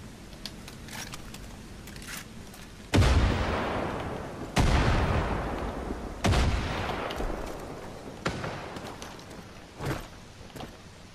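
Gunfire in the video game Far Cry 5 sounds as several loud, heavy shots spaced a second or two apart, each booming and trailing off into a long echoing decay, with a smaller pop near the end.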